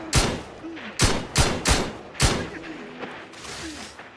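Gunfire in The Outer Worlds 2 video game, with five or six sharp, loud shots in an irregular rhythm, plus quieter game sounds and electronic tones between them.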